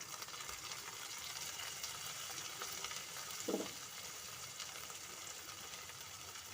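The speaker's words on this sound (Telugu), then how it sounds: "కొద్దిగా సాల్ట్ వేసుకొని ఫ్రై చేసుకుందాం" Turmeric fries in a pan for tomato egg curry, a steady soft sizzle with one brief scrape or stir partway through, quiet and close, with no voices.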